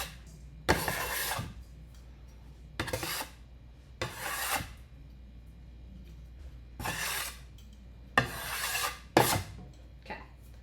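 Kitchen cutting board scraped clean with a scraper while baking an apple tart; six separate close, rasping scrapes at irregular intervals with quiet pauses between, no talking.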